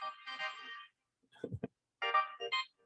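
A smartwatch alert chimes in short bursts of bright electronic tones during a meeting, starting and stopping around a brief low thump, fairly close and alone with no talking.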